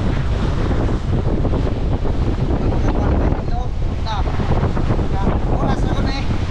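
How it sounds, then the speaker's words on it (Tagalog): Strong wind buffets the microphone in a continuous loud roar near a shoreline crowded with parked boats, with waves adding to the steady rush. "Grabe lakas ang hangin"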